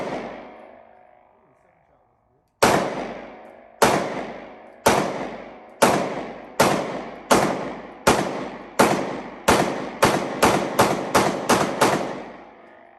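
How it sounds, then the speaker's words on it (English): Sig P320 AXG Scorpion pistol fired in a run of about twelve sharp, loud shots, the first ones spaced evenly and the later ones coming quicker, each followed by a short ringing decay. "So we just shot this pistol."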